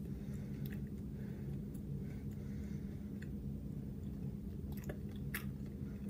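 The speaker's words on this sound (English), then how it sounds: "Oh, it's taking a long time to chew" Someone chewing bubble gum close up, with soft, irregular wet clicks and squishes over a steady low background hum.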